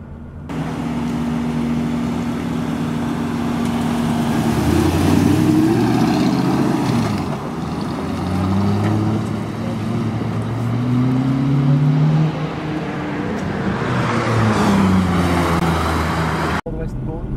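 An Aston Martin car pulls away and accelerates on a wet road in heavy rain, its engine drone steady and close beneath continuous instructional talk throughout.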